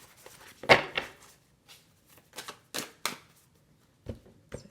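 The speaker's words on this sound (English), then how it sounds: "All right, last shuffle." Close, crisp snaps and slides come from a deck of oracle cards being shuffled, scattered in irregular bursts with brief pauses between.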